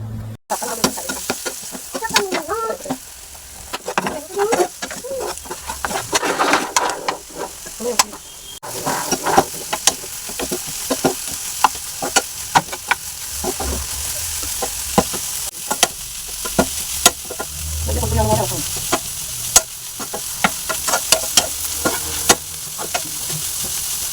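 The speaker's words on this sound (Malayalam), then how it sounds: "ഇനി ഈ മുട്ട വെന്ത് പൊടിയുന്ന വരെ നന്നായിട്ടൊന്ന് ഇളക്കി കൊടുക്കണം" A utensil scrapes and stirs through eggs frying in a pan for a spicy scrambled egg fry, with a continuous sizzle and irregular clatter throughout.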